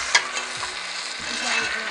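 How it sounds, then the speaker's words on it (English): A pot of stew bubbles and sizzles with a steady, hissing wash of noise, with occasional soft knocks and scraping close by. "As you can see, my stew is boiling."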